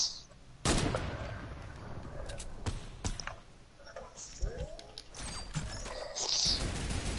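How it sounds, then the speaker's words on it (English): Rapid video-game gunfire aimed at a player's base, sharp bursts of shots scattered across several seconds, loud and close, with a voice shouting between them. "I'm shooting your base down."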